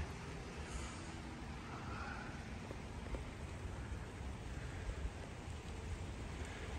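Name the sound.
rain falling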